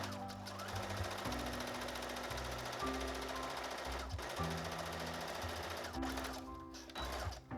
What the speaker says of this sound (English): you're going to continue stretching the elastic as you sew down it with a regular straight stitch